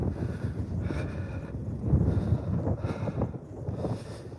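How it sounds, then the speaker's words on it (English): Wind buffets an outdoor microphone in loud, uneven low rumbling gusts that swell and ease over a few seconds, with no voices heard. "I'm aware of the wind,"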